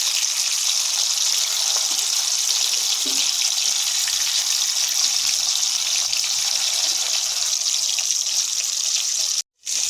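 Chicken tikiya kababs frying in oil over low heat make a steady, dense hiss that runs unbroken and fairly loud, cutting out sharply for a moment near the end.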